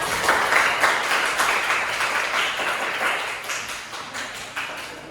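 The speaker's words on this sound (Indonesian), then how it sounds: "ayo tepuk tangan untuk kelompok gerak" A classroom full of people clapping continuously for a student group, a dense crackle of applause that fades slightly toward the end.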